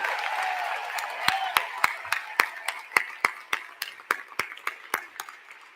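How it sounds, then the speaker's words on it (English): Applause at a regional conference public meeting, with a crowd clapping in a wash of diffuse noise and several sharper individual claps standing out at a steady rhythm, tapering toward the end. "please stand and join me with a rousing round of applause for our CEO, Dr. Glenda Blaskin Glover"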